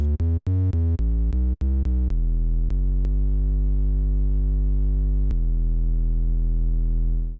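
A clean, deep sub-bass synth plays a quick run of short notes, then settles into long sustained low tones with smooth, pure character.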